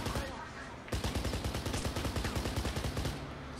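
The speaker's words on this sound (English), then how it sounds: "Yeah, they're shooting at me." Rapid bursts of gunfire from the Kane and Lynch video game, a steady rattling volley of shots that starts abruptly and runs loud and close for about three seconds.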